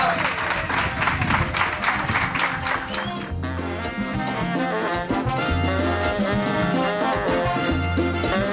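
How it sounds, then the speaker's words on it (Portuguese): An audience on a tourist boat tour in Búzios claps for the boat's captain, Luiz. The applause is loud and runs with steady background music that grows more prominent partway through. "Vamos saludá-lo com um forte aplauso ao capitão"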